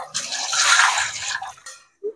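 Running tap water splashes steadily while fish is washed clean in a kitchen, a continuous hiss lasting under two seconds and ending in a brief clink.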